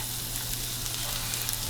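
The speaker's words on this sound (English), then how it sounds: "We're gonna drop them in that hot pan." Shallots hit hot oil in a pan and fry with a close, continuous, crackling sizzle that stays steady throughout.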